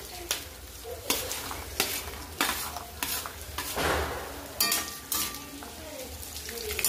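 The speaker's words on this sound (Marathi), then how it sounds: "तुपामध्ये तळून घेणार आहे" Seeds frying in ghee for dry-fruit laddoos, a steady close sizzle broken by repeated scraping stir strokes and light clinks of a spoon against the pan, with no talking.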